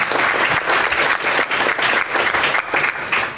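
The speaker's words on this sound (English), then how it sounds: "You can clap now." Audience applause at a tech conference programming-language showdown, steady full clapping from a crowd filling the room for a few seconds with no talking.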